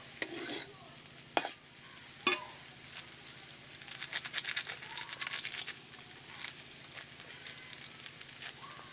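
Chowmein noodles seasoned with Maggi masala are stirred in a frying pan, steady sizzling broken by sharp scrapes of the spatula and clustered scraping strokes, close and moderately loud, with no talking.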